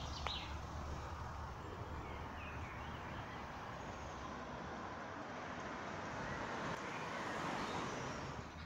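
Steady road traffic rumbles alongside the Bridgewater Canal, a continuous wash of passing cars and heavier vehicles at moderate distance with no speech.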